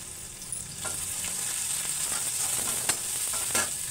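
Garlic and cumin sizzle steadily in hot oil in a pan, a soft continuous frying hiss with occasional light scrapes and spatters from stirring, heard alone and close.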